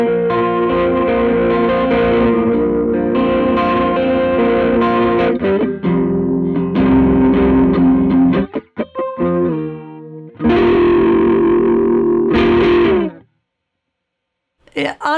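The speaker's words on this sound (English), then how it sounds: "Same settings, this time the chorus." Electric guitar chords and single notes ring out with a shimmering, wavering chorus effect, playing alone with short pauses and a final strum.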